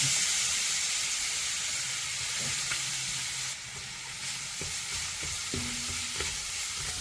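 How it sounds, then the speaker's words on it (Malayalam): Grated carrot sizzles in hot ghee for carrot semiya payasam, a steady close frying hiss broken by scraping stirs and small clinks throughout. "ഇത് നമ്മുടെ ആ നെയ്യിലേക്ക് ഒന്ന് കൊടുക്കാം"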